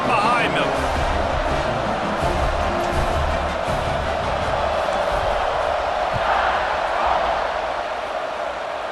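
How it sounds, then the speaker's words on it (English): A roaring stadium crowd cheers continuously before a kickoff in EA Sports College Football 26. The dense, loud wash of noise holds throughout, with an announcer's voice talking over it. "They're set to kick it off, and this crowd now ready to get behind them."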